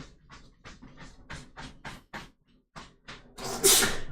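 A single sharp, breathy sneeze in the visual novel game Doki Doki Literature Club Plus! bursts out near the end, following a stretch of quiet, clipped sounds.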